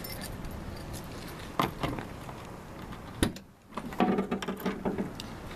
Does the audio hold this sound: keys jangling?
yes